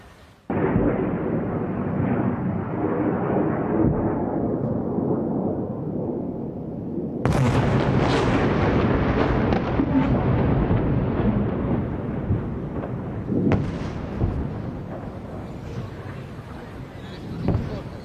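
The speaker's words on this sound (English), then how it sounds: "the sound and the sight of those Iranian missiles being intercepted in the sky high above Israel" Loud, continuous rumbling booms from Iranian missiles being intercepted by air defenses high over Tel Aviv, with a sharp intensified blast partway through and sustained roaring throughout.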